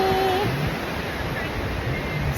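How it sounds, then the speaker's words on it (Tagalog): Ocean waves washing onto a seashore, a steady broadband surf wash with wind noise, close and fairly loud throughout, with a brief faint tonal sound near the start. "sa tabing dagat"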